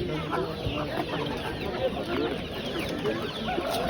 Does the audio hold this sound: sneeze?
no